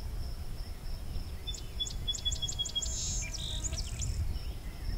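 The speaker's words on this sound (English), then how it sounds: "just picked up rose-breast grosbeak" A rose-breasted grosbeak sings a short run of clear, rapid high notes in the middle, followed by a brief burst of another bird's call, over a soft hum of insects and low background rumble.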